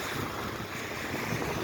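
Wind gusting outdoors on a wet, rainy day, a steady broad roar that buffets the microphone, fairly loud and continuous, with no voices.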